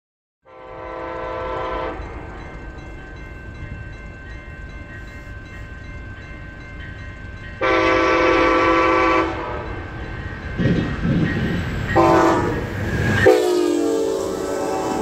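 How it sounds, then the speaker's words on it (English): A northbound Amtrak Cascades passenger train led by an SC44 locomotive passes close by, sounding loud horn blasts in several long and short bursts over a steady rumble of wheels on rail. "Northbound Amtrak Cascades, SC44 pulling."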